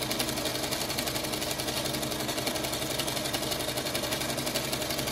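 A sewing machine stitches fabric and interfacing in a circle, running as a steady, fast, even mechanical whir with rapid rhythmic needle beats, close and continuous throughout.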